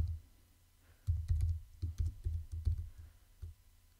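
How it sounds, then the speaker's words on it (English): A computer keyboard being typed on for a short command, about a dozen distinct keystrokes in an uneven rhythm, close and clear with no talking. "Let's type in PRG,"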